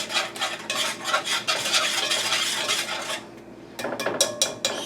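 A whisk stirs thick banana pudding in a bowl, giving a steady close scraping swish in quick strokes, then a short pause before a few sharper clinks and scrapes against the bowl.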